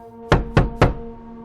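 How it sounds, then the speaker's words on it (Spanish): Three firm knocks on a door in quick, even succession, loud and close, with a resonant hum lingering underneath and no voices. "escuché unos golpes en la puerta"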